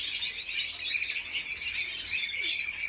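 Caged birds chirp and squawk steadily while their cages are cleaned early in the morning, a thin, continuous high-pitched chatter at moderate distance with no speech.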